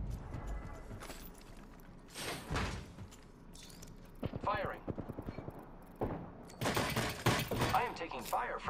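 Gunfire in the Apex Legends video game, with scattered bursts and rapid shot sequences at moderate loudness, mixed with other game effects and a voice speaking at times.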